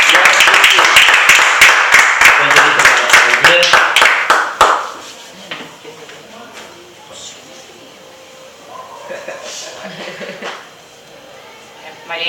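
Church congregation clapping loudly together for about four seconds, a dense burst of hand claps that stops abruptly, followed by quieter room noise with scattered taps and faint voices.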